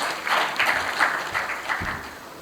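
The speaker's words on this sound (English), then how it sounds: "I think he deserves a round of applause." An audience at a Nigerian Youth Parliament event gives a round of applause, a steady wash of mid-distance clapping lasting a couple of seconds.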